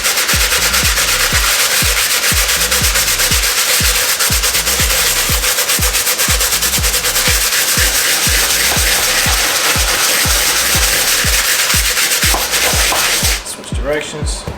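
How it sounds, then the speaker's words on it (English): A stiff bristle brush scrubbing a pair of Off-White Jordan 1 sneakers during a restoration, loud rhythmic back-and-forth strokes repeating steadily and close up, with no talking, ending in a brief handling sound. "Then finally, with the stiff bristle brush,"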